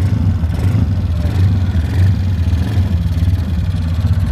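A motorcycle fitted with a 190 kit engine runs steadily close by, a low rumbling throb that rises slightly in spots, with no voices.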